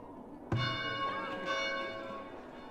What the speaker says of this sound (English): It's got an alarm bell.